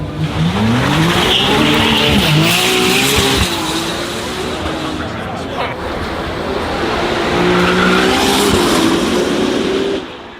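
A hybrid turbo V6 hypercar with three electric motors and over 1100 horsepower revs and shifts at speed at Goodwood Festival of Speed, with rising and falling tonal whine and tire noise, loud and close, accompanied by some talk.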